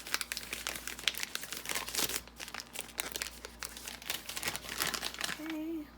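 A sticky-sealed plastic craft baggie is peeled open, giving close, continuous crinkling and crackling with a short tearing pull near the end, while a voice speaks quietly underneath.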